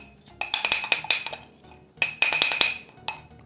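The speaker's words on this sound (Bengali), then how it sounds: "সো যা চিনি আছে আমরা এতে এখন দিয়ে দিচ্ছি।" Sugar poured and scraped into a glass container for a potassium permanganate experiment, two bursts of rapid clinking and tapping against glass, bright and close, separated by a short pause.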